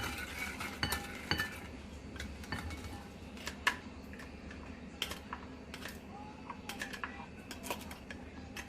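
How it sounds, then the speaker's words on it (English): A spoon stirs sugar into pineapple juice and ketchup for a homemade sweet and sour sauce, giving scattered light clinks and taps against the bowl at an uneven rhythm, close and fairly quiet, with no talking. "Stir them together to mix out the sugar."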